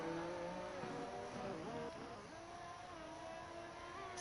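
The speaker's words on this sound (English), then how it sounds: "Ferrari heading into the pits" A Ferrari race car's engine on the Miami circuit, a steady, fairly faint buzzing drone whose pitch steps and shifts as it slows toward the pits.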